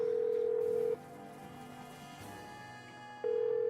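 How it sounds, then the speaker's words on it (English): Telephone tones in the Nancy Drew game Legend of the Crystal Skull: a steady tone stops, a short stretch of quieter, shifting tones follows, then the steady tone returns. "we'll just go ahead and make some phone calls while we can"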